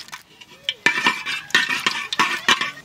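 Mustard oil and dried red chillies crackle as dal is tempered in a village kitchen, short sharp sizzling bursts and metal clinks of a stirring spoon in an irregular rhythm.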